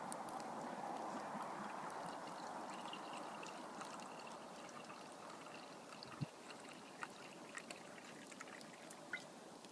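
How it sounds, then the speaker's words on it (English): Homebrewed Pliny the Elder clone beer is poured quickly into a glass in a cabin, giving a faint, steady trickling pour with a few small clinks near the end. "Kind of an aggressive pour on it."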